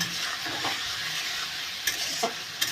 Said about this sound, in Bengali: মাংসগুলো এইভাবে লবণ হলুদ দিয়ে ভেজে নেব